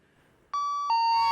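An electronic doorbell chimes a clear two-tone ding-dong, loud and ringing on after a quiet start, on a comedy stage set.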